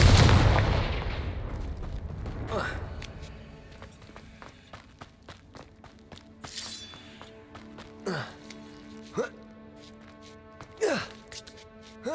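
In Hogwarts Legacy the Confringo blasting spell goes off with a loud, close explosive burst that fades away, followed by scattered whooshes and softer impacts.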